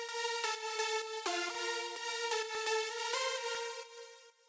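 Progressive house synth lead with Kickstart sidechain ducking, a bright harmonic melody that dips rhythmically on each beat, with pitch changes and a fade at the very end, heard alone without voices.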